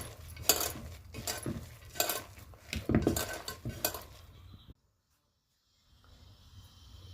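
Wada batter is mixed with salt in a bowl, making repeated rhythmic clinks and scrapes of a spoon against the vessel that stop abruptly, followed by near silence and a faint hum.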